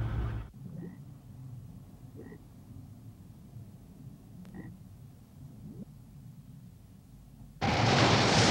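A sculpin fish grunts underwater: several faint, short grunts come at irregular intervals over a low underwater murmur, before a sudden loud burst of rushing noise at the end.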